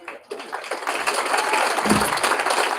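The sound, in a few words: audience applause at a graduation ceremony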